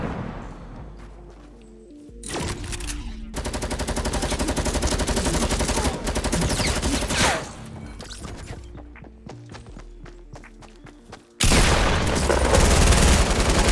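Rifle shots from Fortnite gameplay, several sharp cracks amid bursts of rapid gunfire and a loud final volley, with a player exclaiming briefly over the action.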